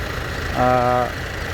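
Low steady rumble of an idling Kubota tractor throughout, with a brief harmonic tone rising above it midway, like a short voice or horn.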